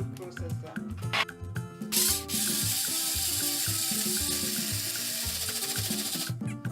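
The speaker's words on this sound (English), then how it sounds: "So I'm using the food processor." A food processor blends fresh pepper sauce, its steady loud whirring starting after a couple of seconds and running continuously over background music before cutting off near the end.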